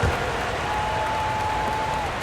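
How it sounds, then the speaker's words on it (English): A crowd applauds dancers in an NBA basketball video game, a steady, dense wash of clapping and cheering that holds throughout with an arena tone beneath. "Put your hands together for your dancers."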